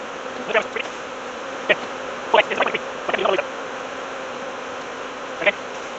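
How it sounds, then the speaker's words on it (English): Honey bees being shaken from a frame into a hive make a steady swarm buzz close by, with brief louder bursts as bees fly near. "I'm going to take all these bees and shake them into that hive."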